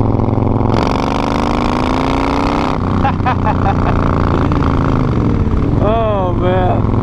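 A Harley-Davidson Low Rider S (FXDLS) motorcycle engine idles loud and close with a deep, steady rumble, shifting pitch once or twice as the throttle moves, and a brief voice near the end.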